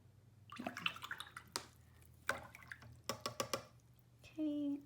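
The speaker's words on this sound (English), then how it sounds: "rinse off my brush" A paintbrush is rinsed in a water pot for watercolor painting, with soft scattered splashes and drips, several quick sloshing taps, then a brief swirl, quiet and close.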